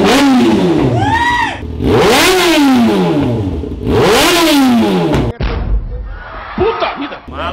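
Yamaha XJ6 motorcycle fitted with a Phaser 600 engine revving hard close up, three sharp rising-and-falling engine sweeps followed by a loud bang and lower idling, with people talking over it.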